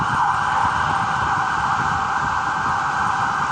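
An emergency siren holds a steady, loud wail over a rumble of traffic, with no other clear sounds.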